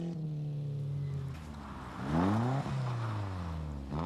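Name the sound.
Ford Escort Cosworth rally car driving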